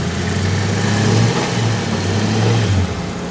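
A car engine revs up hard under alternator load while a slipping V-belt drags, producing a loud sustained roar with a droning whine that rises and falls over a few seconds, close and without talk.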